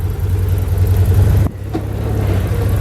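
A 2016 Can-Am Commander XT 1000 side-by-side runs with a steady, low engine drone while driving, briefly dipping after a short clunk midway, then settling back into an even hum.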